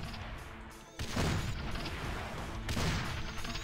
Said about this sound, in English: Let's try grenades.